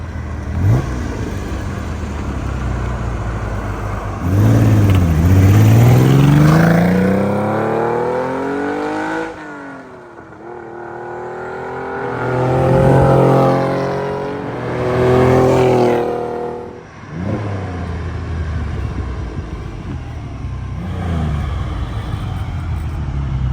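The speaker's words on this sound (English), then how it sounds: "we're gonna stop now and let Jason out so we can do our flybys" A 1972 Ferrari 246 GT Dino coupe with a fresh engine on break-in miles sweeps past several times, its engine note climbing as it approaches and fading away, each flyby loud and close, with no talk.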